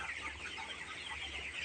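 Chickens in a poultry pen cluck softly and steadily at moderate distance, a continuous low murmur of fowl with no talk.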